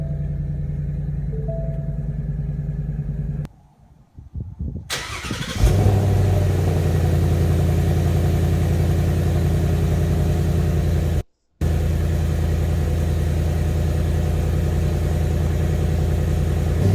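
A 2017 Ford Mustang GT Premium's 5-liter V8, rated 435 horsepower, is started twice: a short starter crank, a sharp catch and rev flare, then a loud steady burbling idle that cuts off and quickly resumes.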